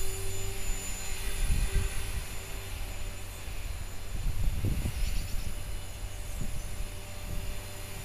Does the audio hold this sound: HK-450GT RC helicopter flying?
yes